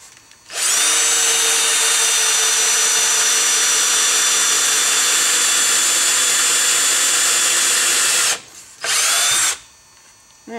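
A power drill bores into wood with a loud, sustained high whine lasting about eight seconds, then stops briefly and gives one short burst before falling quiet.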